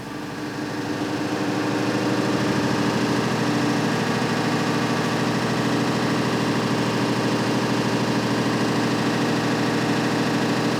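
A school bus engine is revved up to about 1200 RPM, giving a loud, steady mechanical drone that swells during the first couple of seconds and then holds constant with no speech.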